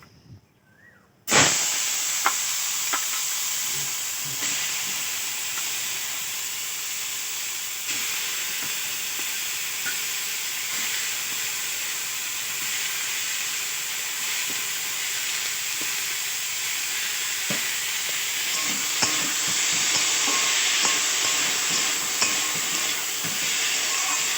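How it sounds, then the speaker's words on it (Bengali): Potatoes frying in a pan give a steady, loud hiss and sizzle that starts abruptly and continues unbroken for the whole stretch, with occasional small pops and no talking. "তো চলো আলুটা এখন ভেজে নিই"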